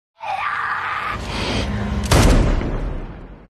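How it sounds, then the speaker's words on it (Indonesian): A single sharp gunshot cracks out over a tense, droning soundtrack in the film Zombieland, followed by a lingering rumble. "Kemudian terdengar suara tembakan."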